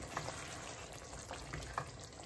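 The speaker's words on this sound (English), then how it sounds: "Gonna give this a good stir on high heat." Chicken bhuna curry with tomatoes and whole green chilies sizzles steadily in a pan on high heat. A few soft scraping and stirring clicks rise over the constant frying hiss, and no one speaks.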